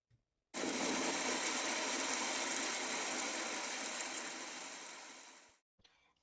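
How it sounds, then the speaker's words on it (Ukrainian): A steady, dense wash of hiss like heavy rain pours continuously for about five seconds, then cuts off abruptly. "Так, це звуки дощу."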